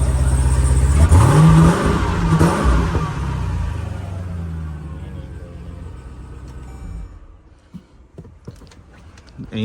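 A car engine warming up gives several loud, rising revs early on, then settles into a lower rumble that fades, with some brief knocks near the end.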